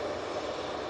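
A Bombardier Global 6500 business jet produces a steady, moderately loud engine roar at an airport, holding even throughout with no voices.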